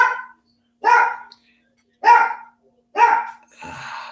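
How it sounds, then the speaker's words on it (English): A dog barks four times in an evenly spaced series, loud and close, with short silences between each bark. "Yeah, sorry about the barking."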